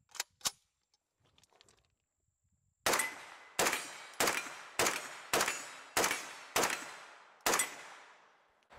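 Eight loud, sharp gunshots from a Kalashnikov KP-9 9mm pistol ring out in a steady rhythm, each with a short ringing decay, after a couple of faint metallic clicks and handling noises.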